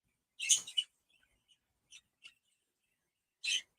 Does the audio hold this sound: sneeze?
no